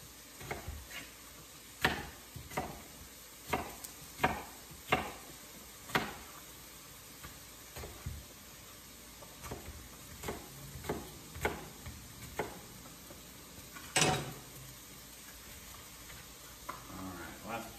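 Ground beef browns in a pan for hamburger soup, giving a steady close sizzle broken by sharp, irregular scrapes and taps as it is stirred.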